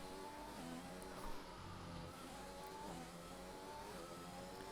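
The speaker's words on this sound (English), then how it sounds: "he's revving the car a little bit, burning some fuel." A race car engine drones and revs in an auto racing game, a steady faint buzzing whine with small rises in pitch, heard alone without voices.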